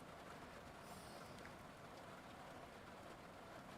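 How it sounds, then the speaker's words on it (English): Rain falls in a faint, steady hiss that holds evenly throughout, with no voices. "can you guys hear the rain?"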